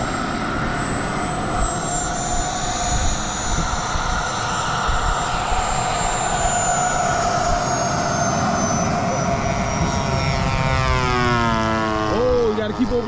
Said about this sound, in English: All right, we got a jet taking off, guys.